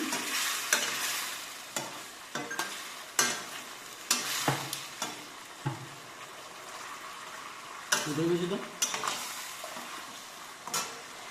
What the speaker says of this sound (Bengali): এর মধ্যে ভেজে রাখা ডিম আলু সব দিয়ে দিলাম, এটা মিক্স করে নিচ্ছি